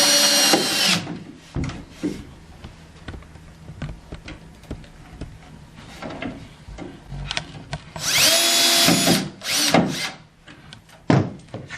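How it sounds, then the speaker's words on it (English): Power drill driving two screws into the base of a desk wall bed, with loud bursts of whirring at the start and again near the end, separated by clicks, knocks and handling thumps. "And you're going to run 2 screws in there."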